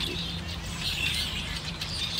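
A flock of birds outdoors, a dense wash of overlapping chirps and fluttering wingbeats that stays steady and fairly close throughout.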